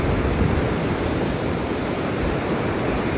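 A flooded river running about three times its normal width rushes in a dense, steady roar, loud and unbroken, with no one speaking.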